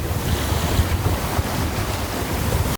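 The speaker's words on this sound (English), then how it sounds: "capture some really good wind-free audio of sailing fast" A sailboat drives fast through open water, with loud continuous rushing of waves and spray along the hull and steady wind buffeting close by; no voices.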